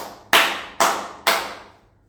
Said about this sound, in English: Clap for Akash Chopra, everyone